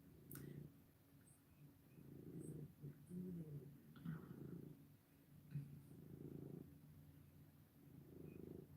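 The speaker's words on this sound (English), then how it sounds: "He's purring so loud." A cat purrs steadily up close, low rumbling pulses rising and falling with each breath, quiet and continuous.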